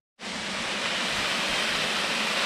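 A small waterfall beside a hiking path up Falling Waters Trail in the mountains, a steady, dense rushing roar of falling water that starts abruptly and holds constant, close and full, with no voices.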